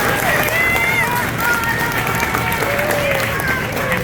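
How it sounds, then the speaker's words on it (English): Crowd applause at the opening of a Publix store in San Marco: loud, dense clapping and cheering from a gathered crowd, with raised voices and whoops over it, sustained for a few seconds. "Let's give Lauren and her team a round of applause."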